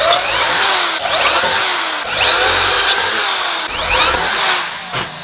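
A power drill boring holes to mount the motor on an electric bicycle, loud and close with a steady whine, repeated bursts as the bit bites, no talking.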